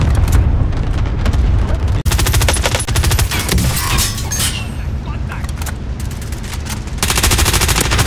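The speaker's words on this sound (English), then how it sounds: "Allied cluster strike." Allied cluster strike in a battle royale shooter lands as rapid rattling strings of blasts and booms, loud and close, alongside machine-gun fire, with players talking over it.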